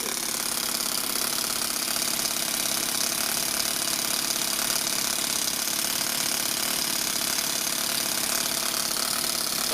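Small four-stroke overhead cam engine idling in an RC car, a steady, fast, buzzy putter that holds an even level throughout with no variation.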